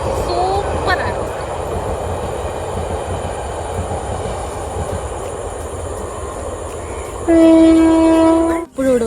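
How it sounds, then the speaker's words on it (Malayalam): A train rolls past through paddy fields in Ernakulam, a steady loud rumble of rail noise that lasts throughout, with a sustained horn blast near the end. "പാടശേഖരങ്ങളുടെ ഇടയിലൂടെ ഈ ട്രെയിൻ പോകുന്ന കാഴ്ച"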